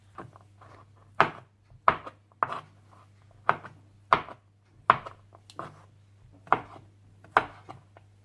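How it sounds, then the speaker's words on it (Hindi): A knife chops cooled grilled chicken into cubes on a board, about ten crisp separate thuds at an even, unhurried pace against a low steady hum, with no one speaking. "चिकन को थोड़ा ठंडा करने के बाद आप इसे जूलियन या क्यूब्स में काट लीजिए।"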